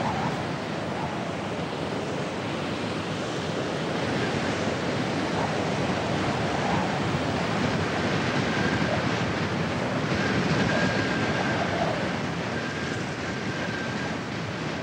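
Surf along the Atlantic coast of southern Africa, a steady broadband wash of breaking waves that stays loud and continuous throughout with no voices, mixed with some wind rumble against the microphone.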